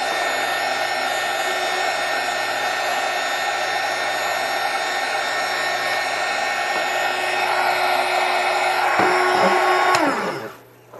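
A handheld heat pen blowing hot air over a small part, a steady loud whooshing hiss with a faint motor whine that holds for about ten seconds before cutting off abruptly.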